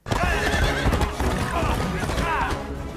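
Horses whinny loudly in a Pirates of the Caribbean film scene over rumbling, busy action noise, with hoof clatter and voices mixed in.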